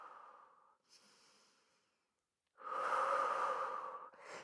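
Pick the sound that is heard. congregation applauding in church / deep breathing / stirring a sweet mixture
deep breathing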